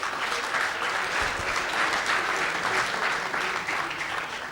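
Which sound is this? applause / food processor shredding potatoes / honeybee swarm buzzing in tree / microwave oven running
applause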